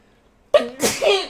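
A single close, loud human sneeze, with a sharp breath-in followed by a forceful burst, alone in an otherwise quiet moment.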